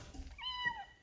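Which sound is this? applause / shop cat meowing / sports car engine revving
shop cat meowing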